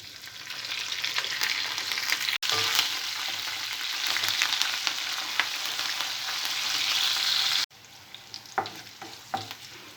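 Mustard seeds, dried red chilies, onion pieces and curry leaves fry in hot oil with a loud, dense crackling sizzle, broken by two abrupt cuts and a quieter stretch with spoon-stirring clicks near the end.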